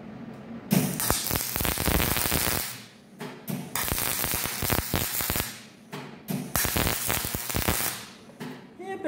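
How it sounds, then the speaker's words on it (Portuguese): MIG welding of aluminium using a coiled torch on a MIG/MAG machine: loud, close crackling arc bursts in three long runs separated by short pauses. "Vamos soldar, pessoal, para não estragar tudo esse arame aqui?"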